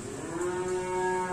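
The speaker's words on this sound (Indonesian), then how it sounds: "Ada lagi ini Limusin betina." A female Limousin calf lets out a single steady, drawn-out moo at close range, with no voices over it.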